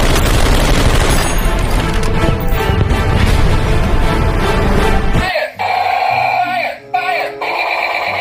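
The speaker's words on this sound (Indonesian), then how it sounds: "di sini ada pistol baling-baling." A Spider-Man toy propeller gun gives a loud, dense burst of sound effects, rapid electronic firing and booms, stopping abruptly after about five seconds, followed by quieter electronic tones.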